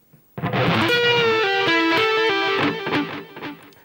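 A short distorted electric guitar phrase, with a note bent upward and released, then a few picked notes that ring out and fade, clear and solo.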